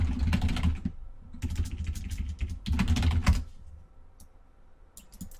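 Keys clatter on a computer keyboard in three quick bursts of typing separated by short pauses, close and crisp, tapering to a few scattered taps.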